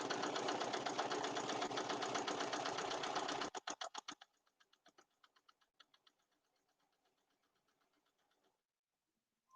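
A sewing machine stitching a potholder runs in a steady, fast, close mechanical whir, then slows to a series of separate clacking stitches that fade out and stop, with no talking.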